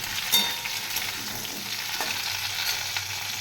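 Chopped okra frying in hot oil tempered with black cumin seeds, a close, steady sizzle with a few soft stirring clicks.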